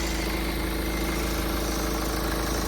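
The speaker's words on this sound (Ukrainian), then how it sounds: "Мотор працює чітко, рівненько." A Hyundai ix35 2.0 CRDi diesel 4WD automatic idles in a constant, smooth hum with a faint rattling buzz from loose plastic trim, steady and close throughout.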